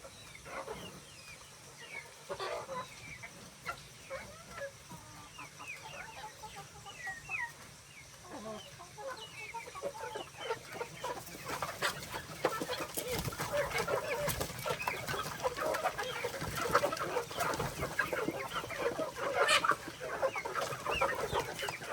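Chickens and roosters are being chased and caught on a village farm, clucking and squawking in scattered bursts. The flock grows louder and more frantic in the second half, and no voices are heard.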